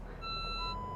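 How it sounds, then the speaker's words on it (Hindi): A Mercedes SUV with full-time all-wheel drive sounds a continuous electronic parking-sensor beep while off-roading near bushes. The tone is steady and clear, with a low engine rumble underneath and no talk. "पी पी पी पी कर रही गाड़ी"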